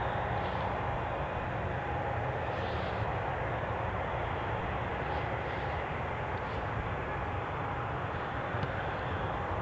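A passenger airplane on the Faro flight rumbles at Newcastle Airport, with a steady, distant jet roar that holds evenly throughout.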